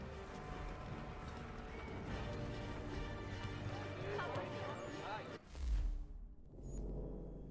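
Horses from the Assassin's Creed III game clip-clop steadily and neigh over a dense bed of game music and ambience, with a brief louder thump near the end.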